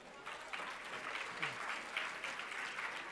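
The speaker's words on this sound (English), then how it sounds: "Can we hear applause for them?" An audience claps for panel speakers at a conference discussion on children's opportunities, a moderate, fairly distant patter of many hands holding steady throughout, with a few brief voices mixed in.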